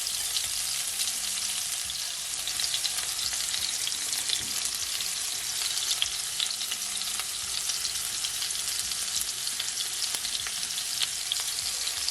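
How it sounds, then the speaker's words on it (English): Shrimp fry in olive oil in a hot pot, giving a dense, continuous, loud hiss-crackle that stays even throughout with no voices. "I'm gonna add my shrimp and I'm gonna fry it for at least 2 minutes on each side"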